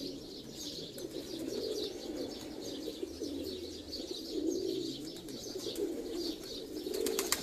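Racing pigeons coo on a rooftop loft during a one-day pigeon tournament, soft repeated low coos rising and falling in overlapping phrases, with small chirps and occasional wing flutters close by.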